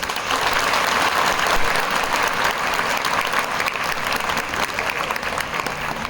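Applause from a large audience at a Shivaji Jayanti speech event, a loud, continuous wash of many hands clapping that holds steady for several seconds and eases slightly toward the end.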